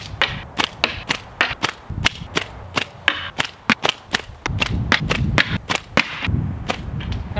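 Sharp slingshot shots snap in quick succession at a pool, each a crisp whip-like crack, about two dozen evenly spaced bursts, close and loud with a faint background hum.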